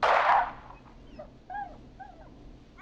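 A dog whimpers in the video game Killer Frequency, with a loud burst at the start and then a few short, high, wavering whines that trail off quietly.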